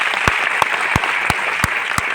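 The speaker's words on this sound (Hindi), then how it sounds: "एक बार जोरदार ताली बजाओ यार" At a success celebration in Delhi, an audience claps in rhythmic unison, with six sharp, evenly spaced claps standing out over a continuous wash of room noise.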